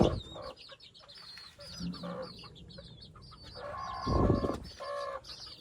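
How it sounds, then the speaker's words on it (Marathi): Chickens and chicks cluck and chirp repeatedly at close range, with a rooster's call rising among the flock and a burst of scratchy noise near the end. "तो कोंबडा गेला बघा खायला"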